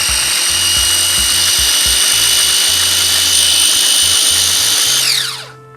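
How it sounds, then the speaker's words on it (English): Food processor grinds chipotle peppers with lime juice in a loud, steady high-pitched whir that runs continuously, with chunks knocking in pulsing bursts underneath, then the motor spins down and stops at the end. "we're just gonna put that right in our food processor, pour our lime juice right in there"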